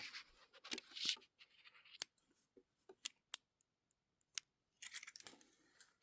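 Scissors trimming thread ends at a fabric seam, a series of quick, sharp close snips scattered irregularly, with soft rustles of cloth between them.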